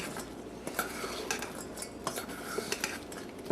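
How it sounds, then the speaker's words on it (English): Utensils clink and scrape in a bowl as a salad with freshly fried bread is tossed together thoroughly, a continuous busy mix of light metallic taps and stirring, close and moderately loud, with no talk. "Toss it all together thoroughly"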